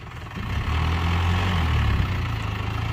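A dump truck with its original engine and gearbox, fitted with large 31-inch wheels and carrying three tonnes, moves off with a deep, steady diesel drone that swells slightly and holds, heard close with no talk.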